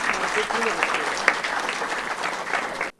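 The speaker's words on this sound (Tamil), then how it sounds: "நம்முடைய பாராட்டுகளும் வாழ்த்துக்களும் ஒரு பலத்த கைத்தட்டல் மூலமாக" Applause from the audience at a Bharatanatyam arangetram, the 307th staged by the Siva Nattiyalaya dance school, honouring director SP Muthuraman; dense, steady clapping fills the hall for about three seconds before cutting off.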